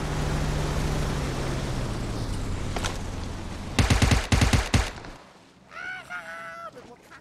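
Bursts of rapid gunfire from shooting in a video game, a dense volley of sharp shots cutting through steady game background noise, followed by a warbling sound effect.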